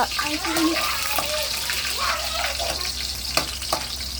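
Tilapia escabeche cooking in a pan in a home kitchen, steady frying hiss with watery splashing and clinks, running under a mother's and others' talk throughout.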